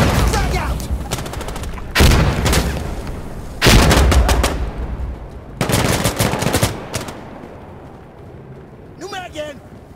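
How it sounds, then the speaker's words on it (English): In the Insurgency Sandstorm game, loud bursts of automatic gunfire and heavy blasts from a frag grenade and a CAR 15 rifle come in several close, separate volleys, with voices shouting between them. "I'm throwing a frag! Frag out!"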